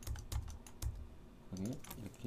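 Computer keyboard keys pressed while editing audio in Pro Tools, a few quick close clicks in an uneven rhythm, followed by a brief low electronic tone.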